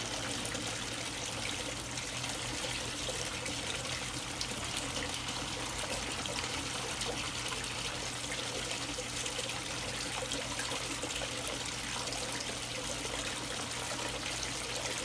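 Water trickles and bubbles steadily through a homemade fluid bed sluice built from a Pepsi bottle, a constant, even liquid hiss with no talking.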